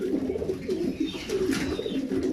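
Pigeons coo in a low, repeated, throaty rhythm in a loft, the soft calls rolling steadily through the whole short stretch with no talking over them.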